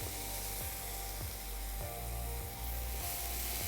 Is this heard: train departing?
no